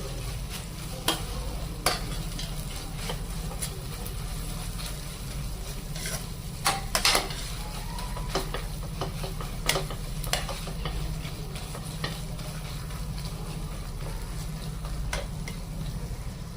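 A spoon stirs bottle gourd halwa with fried dry nuts in a pan, a steady soft sizzle broken by repeated scrapes and light clinks of the utensil against the pan, close up and without talk.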